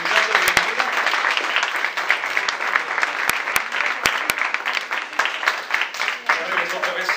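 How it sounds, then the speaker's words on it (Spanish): An audience at a Catholic gathering in Culiacán claps steadily throughout to welcome a young man, with scattered louder claps and voices murmuring underneath. "le damos un fuerte aplauso al muchacho de bienvenida"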